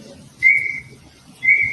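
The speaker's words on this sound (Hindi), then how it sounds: "और इस वीडियो सीटियां बज रही हैं।" Whistles blow amid security personnel at a crowded official gathering, two shrill, steady blasts about a second apart over a low murmur of background noise.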